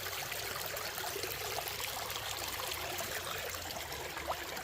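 Creek water rushes past a damaged culvert, a steady broadband rushing hiss, moderately faint and continuous with no talk.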